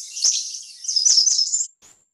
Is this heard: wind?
no